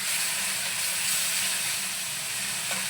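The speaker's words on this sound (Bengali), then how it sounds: "এখানে আমি আদা রসুন খুব কম আর একটা পেঁয়াজের অর্ধেক আমি এখানে কষতে দিয়ে দিলাম।" Ginger, a little garlic and half an onion sizzle in a pan for a burnt-garlic mutton dish, a steady close hiss of frying running without pause and with no talk.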